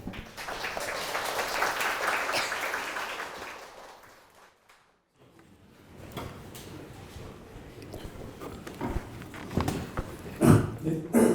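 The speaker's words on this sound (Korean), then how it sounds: "다시 한번 박수 부탁드립니다" Audience applause at a business forum lecture in a hall, a dense clapping wash for several seconds that fades out, then sparser clapping and room noise return alongside some talk.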